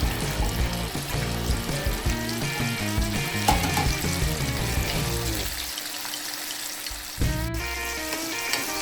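Coated chicken wings for Buffalo wings fry in hot oil, giving a steady close sizzle that continues throughout, with no voices.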